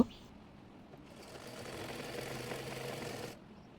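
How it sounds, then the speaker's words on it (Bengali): A sewing machine runs steadily for about two and a half seconds, stitching the folded-under hem of a chemise. The close, even whir swells slightly before stopping abruptly. "নিচটি মুড়িয়ে সেলাই করে নেব।"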